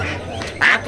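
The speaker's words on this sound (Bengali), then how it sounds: "ও, এটি বুড়া হাঁস।" An old duck at a village market gives a short, loud, nasal quack close by, one brief call amid faint background murmur.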